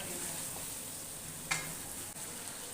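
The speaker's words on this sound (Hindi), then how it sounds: "अदरक और सब्ज़ मिर्च इसी तरह मसाले के अंदर हम भूनते जाएंगे" Chicken frying in masala with ginger and green chili, a steady soft sizzle running throughout with one brief scrape or clink partway through, fairly quiet and with no talking.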